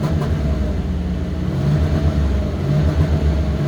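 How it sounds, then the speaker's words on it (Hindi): A Mitsubishi Pajero GDi with a 3400cc V6 petrol engine runs steadily nearby, a low, even rumbling drone with a slight pulsing throb and no clear revving, alone without talk. "इंजन का साउंड तो ऐसे जैसे शेर गुर्राता है उस तरह इसका साउंड है"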